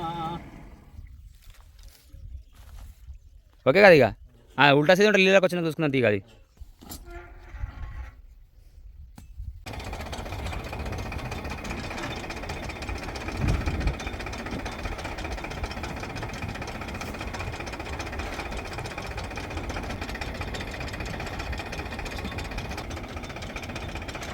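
A farm well's water pump motor on a test run, starting up after a few brief bursts of other noise and then running as a steady, continuous hum, some talk in the background.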